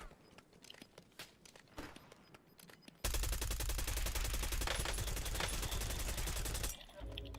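Rapid automatic gunfire in the video game Call of Duty, a dense continuous burst that starts abruptly and drowns out everything for nearly four seconds, preceded by quieter footsteps and scattered game sounds.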